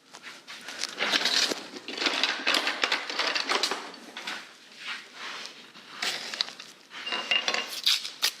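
Butter being cut with a knife on a kitchen surface for homemade Rice Krispies treats, a series of close clattering scrapes and taps in irregular bursts, with no voices.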